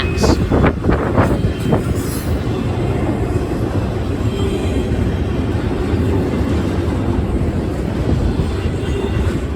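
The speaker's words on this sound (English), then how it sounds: "it turned out it would be an eastbound NS intermodal train consisting of J.B. Hunt" An eastbound Norfolk Southern intermodal freight train loaded with J.B. Hunt stacks rumbles past nearby in a steady, loud roar, with a few brief sharp clanks near the start.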